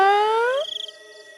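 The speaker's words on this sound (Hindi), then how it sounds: "म्याऊ म्याऊ म्याऊ" A ghostly cat meow in a Hindi horror story: one long, loud, drawn-out meow that trails off into a wavering tail, with no talk over it.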